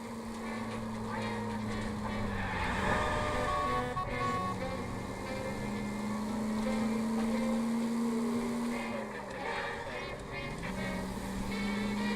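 A car in the video game L.A. Noire drives along, its engine humming steadily with rising and falling tone as a voice talks over it.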